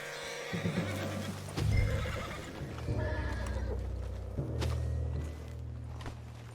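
A horse in the video game Red Dead Redemption 2 whinnies and snorts loudly several times, close by, with hooves shuffling and low rumbling underneath.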